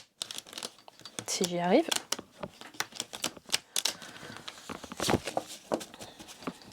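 A deck of cards being shuffled by hand, a string of crisp papery flicks and rustling riffles close up, with someone speaking French partway through.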